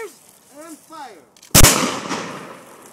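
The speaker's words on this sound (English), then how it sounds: "We take aim, open the pan, cover your ears, and fire." A Spanish arquebus matchlock gun fires outdoors at a demonstration: one sudden, very loud blast with a long rumbling decay, preceded by faint warbling sounds.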